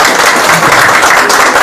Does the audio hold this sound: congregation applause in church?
yes